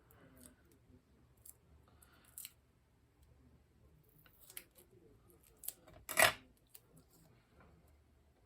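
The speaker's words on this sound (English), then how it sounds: "back to cutting it in half" Scissors cut a Memorydex card in half, with one sharp, close snip standing out among faint clicks and light handling noises in an otherwise quiet room.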